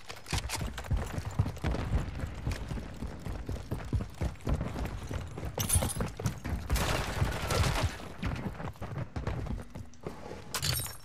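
Gunfire in Modern Warfare 3 online play, bursts of rapid shots and clattering impacts that rise and fall in intensity, with sharper bright bursts standing out at a few moments, loud and near.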